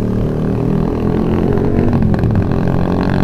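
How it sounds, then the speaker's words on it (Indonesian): A motorcycle with a loud aftermarket exhaust revs close by at night, its deep rumbling drone holding steady and then swelling a little toward the end. "motor temen gua berebet nih depan"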